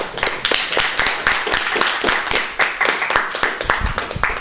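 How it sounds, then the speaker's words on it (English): A small group claps in a quick, uneven patter, close and fairly loud, with individual hand claps distinct rather than a dense roar. "Round of applause for Josie."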